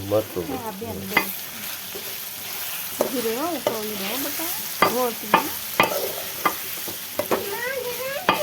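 Turmeric tempered in hot oil for a kantola (spiny gourd) curry, with a soft continuous sizzle and frying crackle beneath close stirring scrapes, fairly quiet throughout.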